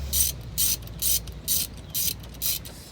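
A ratchet works loose a brake caliper bolt on a 2001 Saturn SC2, giving six even bursts of close pawl clicking about half a second apart, with no talk.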